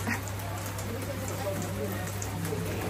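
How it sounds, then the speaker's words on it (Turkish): Heavy rain pours steadily near the Skopje train station, a dense continuous hiss and patter up close, with no talk over it. "Yağmur iyice arttı"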